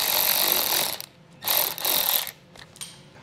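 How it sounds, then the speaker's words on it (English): Ratchet wrench with an 8mm socket backing out bumper fascia screws on a 2021 Chrysler Pacifica, two bursts of close, rapid clicking separated by brief pauses, then a shorter faint burst. "We'll start with our 8mm socket, and then we'll remove these screws that we have here."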